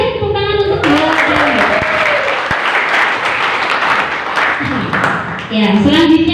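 Applause bursts from the audience at a school student council candidates' debate, a loud crowd clapping for several seconds between stretches of a voice speaking at the start and end.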